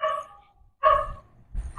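A dog barking at night in a quiet neighbourhood, three sharp barks spaced apart, fairly close and alone.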